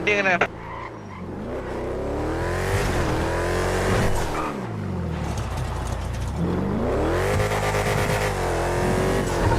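A car engine in a city driving video game revs and accelerates, rising and falling in pitch with tire squeals and skids, loud and continuous with people talking over it.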